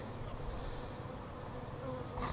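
Honey bees drone in an opened top bar hive, a steady, soft, close buzzing hum that holds evenly throughout with a small knock at the end.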